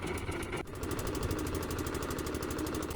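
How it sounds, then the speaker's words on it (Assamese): A fishing boat engine on the Brahmaputra river runs steadily, a loud close rhythmic chugging thump at an even pace after a brief shift at the start. "ইয়া আমাৰ নাও ষ্টাৰ্ট হৈ গ'ল"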